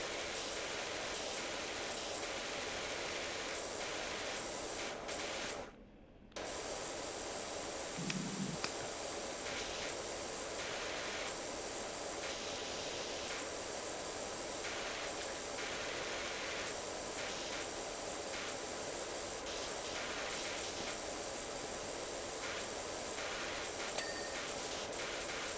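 A pressure washer sprays in the PowerWash Simulator video game, a steady hissing rush of water that runs nearly nonstop, broken only by one brief pause.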